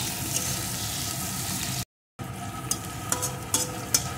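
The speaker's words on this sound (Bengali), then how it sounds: "পেঁয়াজ কুচিটাও একটু ভেজে নেব।" Chopped onion fries lightly with cumin in a pan: a close, even sizzle with busy stirring scrapes and taps. A brief dead silence cuts in partway, then the sizzle and clinks resume.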